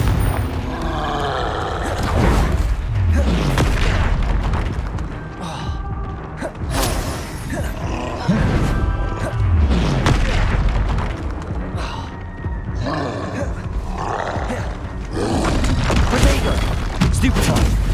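Confringo blasting-spell explosions in the video game Hogwarts Legacy: repeated booming blasts and thuds mixed with creaking, mechanical game sounds, with voices heard between them.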